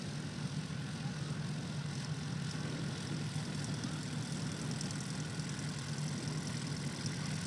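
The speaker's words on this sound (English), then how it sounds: "That's an 82-foot takeoff for Ryan Melendez." A STOL competition aircraft on its short takeoff roll, a steady droning engine and propeller hum at moderate distance, continuous and unbroken without voices.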